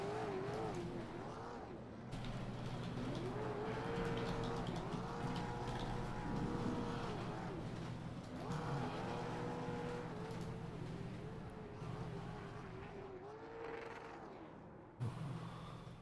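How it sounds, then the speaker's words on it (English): Late model stock cars lap a bullring track, engines droning and rising and falling continuously as cars pass, heard from a distance with crowd ambience throughout. "Oh, look out. It's the 81 car."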